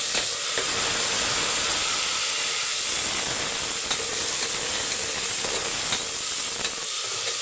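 Small peeled shallots sautéing in oil in a pan, giving a steady, loud, close hiss and sizzle with a few faint stirring clicks.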